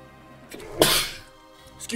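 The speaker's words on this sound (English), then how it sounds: "Excuse me, I sneezed." A single sharp human sneeze bursts out near the mic, brief and loud against a quiet background.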